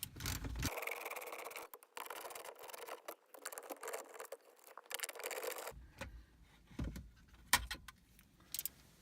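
A ratchet with a 10 mm socket and extension backs bolts out of a radio mounting in a Pontiac Vibe / Toyota Matrix dash, giving quiet irregular clicks, rattles and scrapes close up with no talking.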